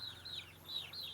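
Free-range Yudhistira, KUB and Larmot chickens give a few soft, rising chirping calls in quick succession, faint and close, with no talking.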